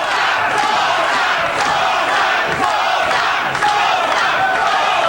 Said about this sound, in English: Crowd taking up the chant, Sosa, Sosa.